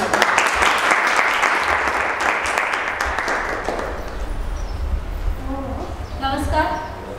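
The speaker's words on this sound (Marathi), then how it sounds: "एकदा टाळ्या वैष्णवीसाठी." An audience at a poetry recitation event gives sustained, full applause for about four seconds, then it fades into quieter scattered clapping while a voice begins to speak.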